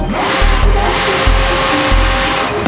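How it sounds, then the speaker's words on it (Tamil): McLaren supercar engine in Forza Horizon 5 revving alone and loud, a steady high-pitched drone with rhythmic pulses and repeated throttle blips, no voices over it. "இந்த காரோட இன்ஜின் சவுண்ட் கேட்போம்"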